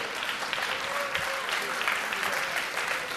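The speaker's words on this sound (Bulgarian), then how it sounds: "Аплодисменти за това страхотно изпълнение!" Audience applause after a dance performance at a competition superfinal, a steady dense patter of many hands clapping throughout.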